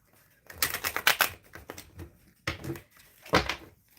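Tarot cards being shuffled by hand in quick bursts of riffling and slapping, with short pauses between them, close and fairly loud in a quiet room.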